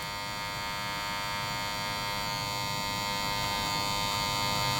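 Electric hair clipper buzzing steadily and close during a medium drop fade haircut, a continuous bright motor hum with no talk, rising slightly in level toward the end.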